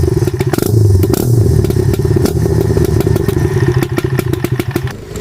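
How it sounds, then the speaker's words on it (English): A vintage moped engine idles steadily up close, a continuous low putter with irregular mechanical clatter and small knocks running through it, fairly loud and alone without talk. "She lets the moped idle a little longer."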